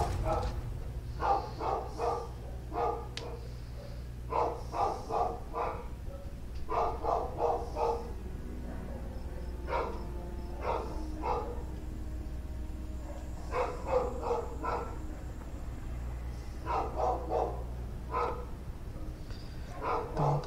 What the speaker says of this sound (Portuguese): O caminhão do lixo está subindo aqui, esse cachorro vai ficar louco.